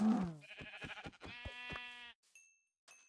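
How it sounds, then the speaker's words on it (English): Sheep in Minecraft bleat in short, wavering calls, several in a row with a tremulous pulsing quality, fairly clear and close, followed by a faint chime-like tone near the end. "Got cows and sheep."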